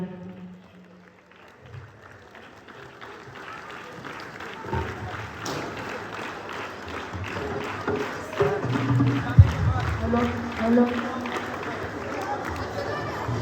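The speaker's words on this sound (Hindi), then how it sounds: "जोरदार तालियों के साथ उनका स्वागत किया जाए।" Audience applause welcoming the chief guest at an Independence Day celebration at a school, the clapping building gradually from quiet to a dense, steady crowd ovation, with some background voices mixed in.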